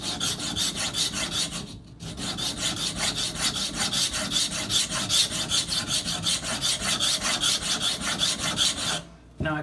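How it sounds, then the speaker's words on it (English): A Cold Steel Recon 1 knife edge being ground during sharpening and tip repair, making steady, rhythmic rasping strokes close up. The strokes continue without a break except for two short pauses. "May seem like I'm doing a lot of grinding, but I haven't even formed a burr on the other side yet."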